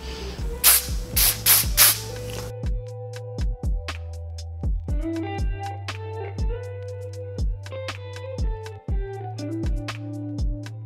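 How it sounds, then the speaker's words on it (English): Wig melting spray hisses out of a can in several quick, close bursts, then stops as rhythmic background music takes over. "I'm going to use the Wig Dealer melting spray"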